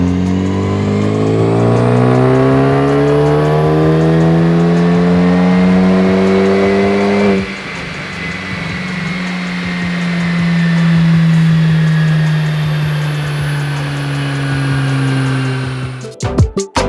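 Tuned Ford Focus ST engine on a dyno, revving loudly with a rising, climbing tone that breaks at a gear change and climbs again, ending with abrupt clattering pops as it shuts off.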